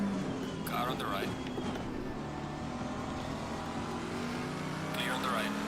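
A race car engine hums steadily in Assetto Corsa Competizione at Kyalami, faint and distant, with another car drifting past, while a voice talks over it throughout.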